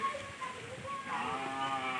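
A cow tethered in a cowshed gives a single low, drawn-out moo. The sound is brief and fairly faint, and it rises slightly in pitch as it carries.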